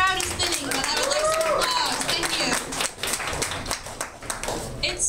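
Audience clapping at a student election debate, a thin crowd of hands applauding steadily for a few seconds, with voices and chatter mixed in.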